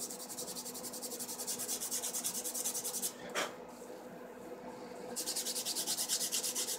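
Sandpaper is rubbed by hand over a maple wood bowl scraper in fast, regular strokes. The quiet, close scratching pauses briefly midway around a single sharper scrape, then picks up again. No one speaks.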